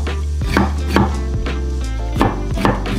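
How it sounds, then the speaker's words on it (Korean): Knife chopping a round pumpkin (Korean squash) on a cutting board for a temple-style stir-fry, with about eight sharp, uneven chops in three seconds, close and clear with no talk. "이거는 너무 곱게 안 썰어도 돼요."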